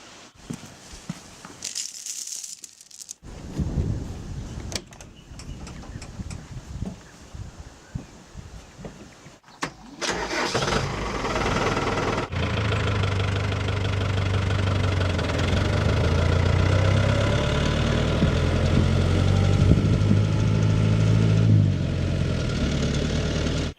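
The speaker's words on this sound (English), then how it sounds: "Bring the tractor down and pull you out." A tractor engine at a wetland turns over and starts around the midpoint, then settles into a steady, loud, low idle that knocks and rumbles near at hand, with earlier handling noises and rustling before it starts.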